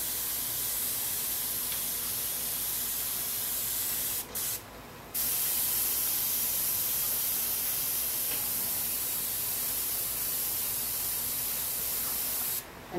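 An airbrush sprays paint to lay down a drop shadow on a painted hill, a steady close hiss that runs nearly the whole time with brief pauses around four to five seconds and again near the end.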